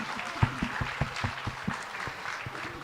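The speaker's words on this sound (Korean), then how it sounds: "뜨거운 박수로 다시 한번 격려해 주시기 바랍니다." Audience at a church neighbour-invitation event applauds a nanta drumming team, with moderate, fairly sparse clapping and a few sharper claps standing out, heard at a distance in a hall.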